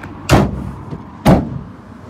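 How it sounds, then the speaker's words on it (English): Two solid thuds about a second apart as a van's rear doors are swung shut, each a loud close slam with a short rattling decay. "Just shut the back doors."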